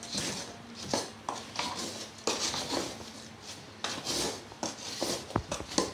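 Wooden chopsticks stir and scrape dry turmeric, temulawak and ginger powder inside a pot, making repeated rasping, rubbing strokes in uneven bursts with a few sharper taps against the metal, close up and with no voices.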